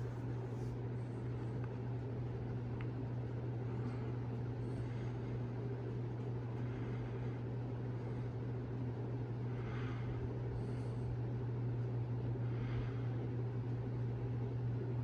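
A 52-inch Murray Feiss ceiling fan running, a steady low motor hum with an even whoosh of moving air, constant and fairly quiet throughout, with no voices.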